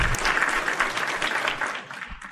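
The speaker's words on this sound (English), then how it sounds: "I'm gonna hit my button and give you a round of applause." Canned applause sound effect triggered from a button during a live reaction stream, a bright, dense burst of clapping and cheering that fades out toward the end, with no talk over it.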